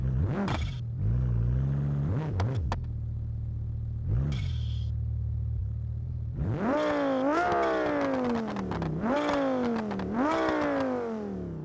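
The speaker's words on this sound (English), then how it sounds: "I've got to let you hear this car" A car engine in the BeamNG driving game revs hard in several rising and falling sweeps, starting with short blips and settling into repeated loud climbs and drops through the gears, up close with no voices.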